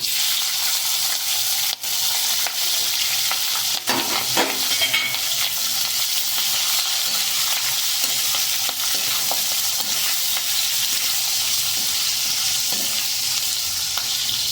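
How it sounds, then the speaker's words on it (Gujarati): Chillies tempering in hot oil already seasoned with mustard seeds, cumin and asafoetida, giving a steady, close, dense sizzle with occasional spits and stirring clicks, no voices. "હવે મરચાં વઘારી લેશું"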